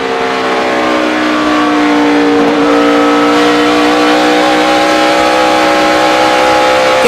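Onboard the car of a NASCAR Sprint Cup Series racer at Texas in 2011, a loud, steady engine roar holds high revs with a brief dip and climb partway through, with no other sound.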